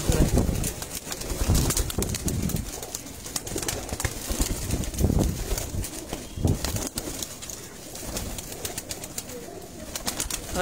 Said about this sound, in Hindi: ये काले मुंह वाले कबूतर जो है ये देखिए